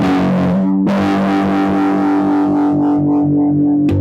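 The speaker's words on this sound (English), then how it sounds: "can hear a little bit of that phase inversion." Loud, sustained distorted electric guitar through a vintage-style phaser pedal with a swirling, sweeping modulation effect, ringing chords played alone with a sharp new attack near the end.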